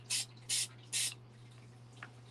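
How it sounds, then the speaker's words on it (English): An airbrush or spray can hisses liquid rust weathering paint onto a narrow gauge model train in three short, even bursts, with a fainter fourth puff after a pause, over a steady low hum. "Now to get the appropriate look, we're going to just spray it again"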